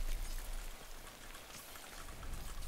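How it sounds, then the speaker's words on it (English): Steady rainfall in the video game Death Stranding, a dense continuous hiss of drops on surfaces at moderate level with no talk. "Sam, it's rain time. It's rain o'clock."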